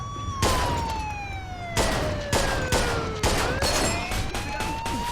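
Repeated gunshots in Mafia II, a handful of sharp cracks spaced irregularly over a wailing police siren that sweeps down in pitch, all fairly close and loud.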